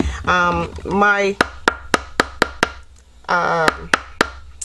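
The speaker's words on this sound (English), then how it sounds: "my staple remover also doubles as a hammer for those staples that don't go all the way in" Sharp, evenly spaced taps of a staple remover used as a hammer, driving staples into wood, about nine hits in a row, with a voice talking before and after.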